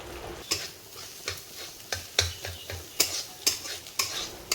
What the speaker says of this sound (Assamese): কেৰাহীত গৰম হৈ অহা তেল দি এয়া কণীটো ভাজি লৈছোঁ